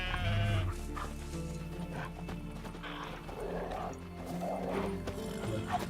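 Sheep bleat repeatedly in The Witcher III, up close over a busy game soundscape with hoof-like clopping and other farm-animal noises.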